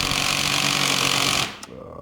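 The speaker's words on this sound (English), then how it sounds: "The ratchet doesn't like it." A ratchet works at a motorcycle's WP rear shock preload adjuster, struggling against it. A close, rapid mechanical rattle runs steadily for about a second and a half, then cuts off abruptly.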